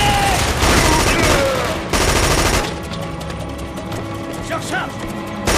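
Rapid automatic gunfire in the shooter game Killzone 2, loud bursts in the first half that give way to scattered mechanical clatter and a quieter firefight with sporadic shots.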